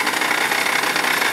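A brand-new quad bike's engine runs loud and close, a dense buzzing roar with fast, even vibration and no voices.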